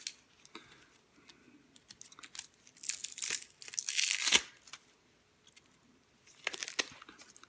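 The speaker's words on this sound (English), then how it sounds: "So you just peel this off back to the root." Dry outer onion skin is peeled back to the root, making close crinkling and tearing crackles in irregular bursts, loudest in a long rustle midway, with short quiet gaps between.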